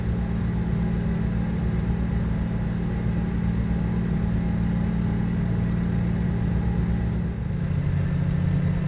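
A Cummins ISX15 600-horsepower truck engine in American Truck Simulator drones with a steady, loud, deep rumble throughout, holding an even pull with a slight shift in tone near the end.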